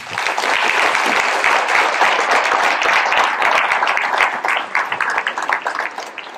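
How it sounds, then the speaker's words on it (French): A crowd applauds steadily and loudly, dense clapping sustained throughout before thinning slightly near the end. "Bravo, on peut les applaudir."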